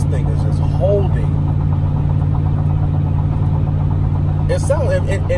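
A 1997 Chevrolet Silverado pickup idles with a steady low rumble and slight vibration, close and continuous throughout, while a person talks over it.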